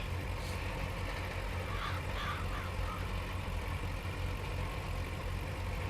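Tractor engine idling steadily in a farming video game, a tractor fitted with a canopy, its low continuous rumble constant and fairly loud throughout with no talk over it.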